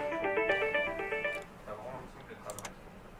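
A telephone line rings with repeated electronic tones while a call is transferred to an emergency medical service doctor. Faint voices and background noise follow once the ringing stops.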